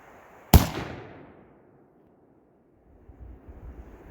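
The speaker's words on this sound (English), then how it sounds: "I'm gonna take one more shot and see where it goes." A single sharp, loud report from a Thompson Center Compass II .223 bolt-action rifle is followed by a decaying echo across an open outdoor range, then faint wind rumble.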